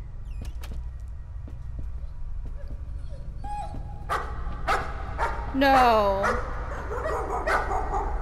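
Whimpering, wounded-sounding dogs in the horror game Layers of Fear: several short yelps and barks, then rising and falling whines midway, close and fairly loud over low ambient drone, with a voice briefly exclaiming.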